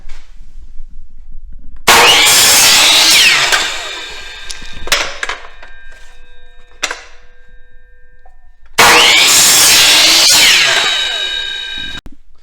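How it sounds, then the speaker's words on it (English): A miter saw makes two loud, close cuts through wooden end pieces for homemade turkey plaques. Each cut begins with a sharp burst and then winds down, with clatter and knocks in between. "Come over to the miter saw. And just cut those end pieces off."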